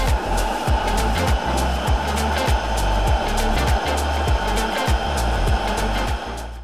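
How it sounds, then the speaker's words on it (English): A kitchen blender whirring through garlic, sage, lemon juice and olive oil for a white bean dip, a loud close motor drone pulsing in a regular rhythm as the blades churn, with no talking. "And we're going to blend this together."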